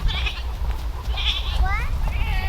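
Goats bleat at a farm in a few short, wavering calls over steady outdoor background noise, with people talking nearby.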